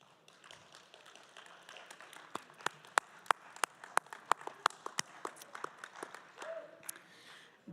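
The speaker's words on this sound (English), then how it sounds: "give them a round of applause" Graduation audience at an adult high school ceremony clapping, starting as scattered sharp individual claps and building into a steadier patter of applause from a mid-sized crowd.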